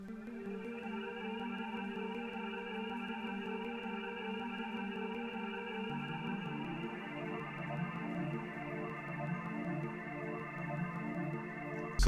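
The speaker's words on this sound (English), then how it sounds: "the first sound that we have here is the hiss key" Dry one-shot synth sample named hiss key from a Cypher kit, played without effects: a sustained tonal drone with airy noise on top, shifting pitch midway and holding steadily throughout.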